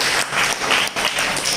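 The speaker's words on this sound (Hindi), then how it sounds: "तालियां बजाइए।" Applause from an audience at an Indian Standards event in Bhora Kalan, a steady dense wash of many hands clapping at once, loud and close, with no voices rising above it.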